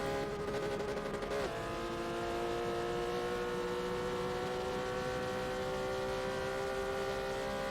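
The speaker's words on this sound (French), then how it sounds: "vous pourrez aussi admirer le bruit de cette jolie Porsche" A 2004 Porsche 911 GT3 engine at Monza, its sustained high-revving wail steady and loud throughout, with a brief rev change near the start and stable harmonic tones after.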